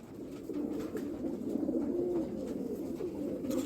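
Sialkoti pigeons cooing steadily in a loft, a dense, continuous murmur of overlapping low coos close by, with no talk.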